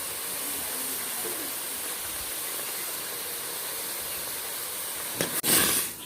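Steady hissing, bubbling rush of water boiling in a pot fills the clip, ending in a brief clatter.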